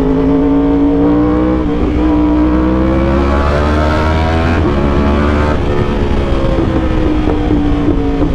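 A Yamaha R1 motorcycle fitted with a loud SC Project exhaust drones close by, its engine note holding steady with slight pitch rises and falls, loud and unbroken throughout.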